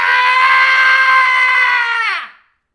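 A voice imitates a cartoon Tom scream: one long, loud, sustained shriek that holds steady for about two seconds and then drops off abruptly into silence.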